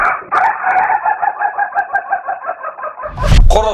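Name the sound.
sick rooster crowing and coughing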